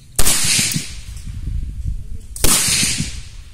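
Two sharp, loud gunshots about two seconds apart at an outdoor shooting practice range, each followed by a ringing echo that decays, close to the listener.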